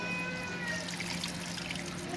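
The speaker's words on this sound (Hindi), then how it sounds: "तो पानी ये हमने जग में ले लिया है, ये अब हम इसमें शामिल करने लगे हैं।" Water pours from a jug into a cooking pot of chicken haleem in a home kitchen, a steady close trickle and splash running without a break for about two seconds.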